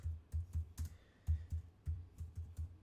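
Rapid, uneven keystrokes on a computer keyboard while code is being typed, a dozen or so close clicks in quick bursts, fairly quiet, with no talking.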